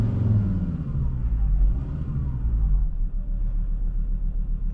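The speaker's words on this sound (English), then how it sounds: "Just rev it up a little bit for you." A Ford Ranger Wildtrak with a 3.2-litre five-cylinder diesel engine and automatic transmission revs while heard from inside the cab, a loud, steady low rumble that swells and eases, with no talk over it.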